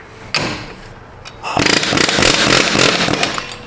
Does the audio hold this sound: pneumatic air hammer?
yes